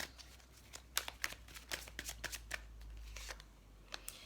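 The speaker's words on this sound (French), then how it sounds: "Et je vais remélanger les cartes." A deck of tarot cards is being shuffled up close, giving a series of quick crisp riffles and flicks in uneven bursts over a faint low hum, with no talking.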